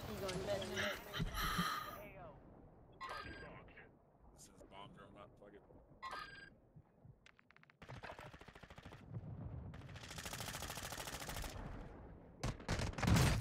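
Pistol gunfire in a video game, quick cracking bursts of shots in clusters broken by pauses, fairly close and loud, with players talking over and between the shooting.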